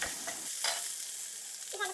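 Bay leaves and green chillies fry with garlic in a pan for an Assamese garlic fish dish, crackling and sizzling under a few brisk stirring scrapes in a short burst, with no voices.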